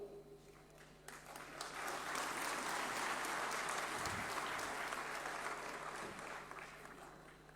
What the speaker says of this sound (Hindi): मेरे बोलने पर आप तालियां बजा रहे हैं